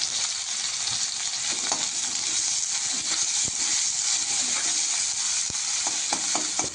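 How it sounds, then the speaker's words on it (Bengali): Whole cumin, cardamom, cinnamon and bay leaf with chopped onion frying in hot oil, a dense continuous close sizzle broken by occasional clicks and taps of a stirring spoon. "তেল গরম হয়ে গেছে, ফোড়নে দিয়ে দেব গোটা জিরে, এলাচ, দারুচিনি, তেজপাতা।"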